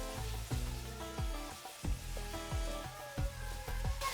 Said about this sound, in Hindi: ये देखिए, नमक डाल के हम इसको फ्राई कर रहे हैं।